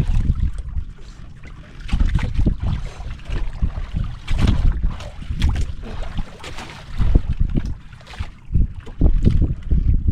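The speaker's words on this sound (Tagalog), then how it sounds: "Ikot ang bangka ah." A small bangka boat moving and turning on open water, with broad rushing wash and wind buffeting the microphone in uneven surges throughout.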